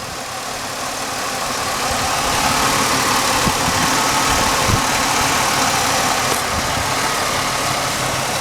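A car engine with over 200,000 miles idles steadily nearby, a mid-pitched running hum that swells slightly after the start and holds even, with no talk.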